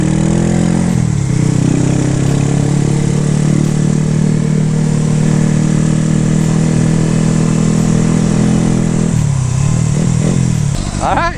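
A Kawasaki ZX6R motorcycle fires up for its first start and ride, its engine droning loud and close at a steady idle, then dipping and revving up again near the end.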